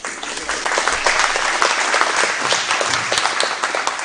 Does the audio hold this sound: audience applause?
yes